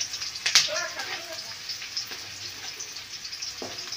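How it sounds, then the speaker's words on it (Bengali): Sliced onions and chopped garlic fry with bay leaves in a pan, giving a soft, steady sizzle with scattered pops and crackles. A couple of short clinks sound early, and the frying stays low and close. "পেঁয়াজগুলো আর রসুন কুচিগুলো ভালো করে তেজপাতা দিয়ে ভাজা ভাজা করে নিচ্ছি লাল লাল করে"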